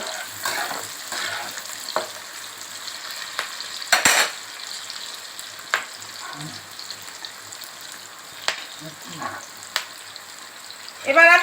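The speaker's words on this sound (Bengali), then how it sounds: "কাজুটা দিয়ে এবার এটাকে ভালো করে একটু ভাজা ভাজা করে নিতে হবে।" Soaked cashews sizzle in hot oil for a chicken and black pepper curry, a soft steady fry broken by sharp scrapes and clinks of a spatula stirring against the pan.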